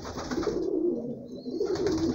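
Several pigeons in a loft coo steadily, overlapping low throaty calls forming a dense, continuous murmur close by without pauses.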